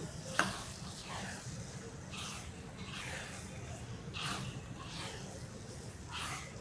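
Sugar is stirred into sesame khoa filling in a pan, a soft continuous sizzle with rhythmic spatula scrapes repeating every second or so, close and quiet.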